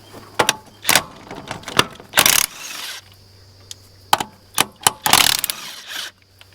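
A hand wrench works the lug nuts off a farm trailer wheel, giving sharp metallic clicks and clanks with a few longer rattling ratchet bursts, close and loud, over a low steady hum.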